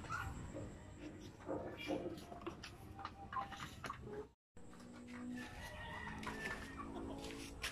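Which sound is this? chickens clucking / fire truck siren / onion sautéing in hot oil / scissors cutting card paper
chickens clucking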